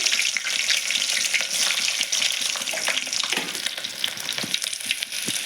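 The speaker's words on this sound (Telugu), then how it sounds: "ఆయిల్ హీట్ అయిందండి. కొద్దిగా ఉల్లిగడ్డ ముక్కలు వేస్తున్నానండి." Chopped onions drop into hot oil for an egg curry and fry with a loud, steady, crackling sizzle that fills the whole stretch, joined by faint stirring scrapes. No voices can be heard.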